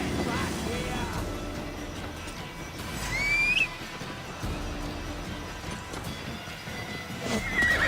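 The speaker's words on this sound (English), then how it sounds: "Come on, horsey, let's get out of here." A horse in the video game Assassin's Creed Valhalla gives a sharp whinny midway, amid steady clip-clop hoofbeats at a gallop, with a voice speaking over parts of it.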